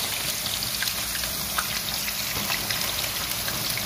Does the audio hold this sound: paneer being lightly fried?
yes